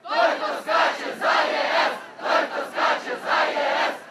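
Thousands of students at the Ivano-Frankivsk Euromaidan chant a slogan in unison, loud rhythmic bursts of many voices repeating in regular phrases with short pauses between them.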